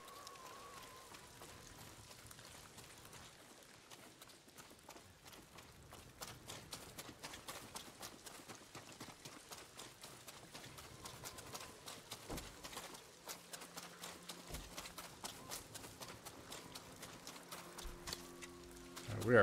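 Horse hooves clip-clop steadily in the video game Ghost of Tsushima, a long run of quiet, sharp hoofbeats that grows slightly louder toward the end, with soft ambient game sound beneath and no talk.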